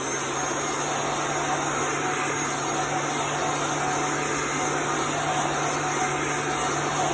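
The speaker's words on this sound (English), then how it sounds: "I'm gonna dry this with my heat gun." A heat gun dries ink on kitchen towels, giving a steady, even blowing whir with a constant hum underneath, close and unbroken for the whole stretch, with no talking.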